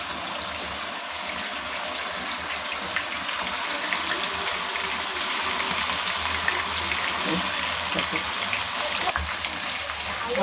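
Chicken frying in oil, a steady, dense crackling sizzle that stays loud and close throughout with no pauses, faint background sounds underneath.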